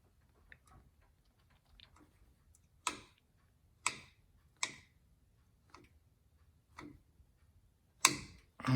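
Rear brake adjuster on a 2003 Ford F350 being backed off, a series of sharp, distinct metallic clicks at irregular intervals, close and isolated against a quiet background.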